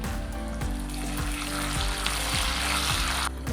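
Dried red chilies, curry leaves and urad dal fry in hot oil, a loud continuous close-up sizzle with faint periodic stirring taps, no voices.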